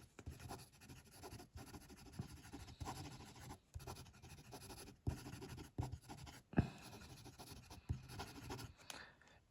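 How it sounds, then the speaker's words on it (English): A Wancher Kaleido Queen Horizon fountain pen is moved quickly across paper, making close, soft scratchy strokes in short bursts with brief pauses between words. "Quick writing."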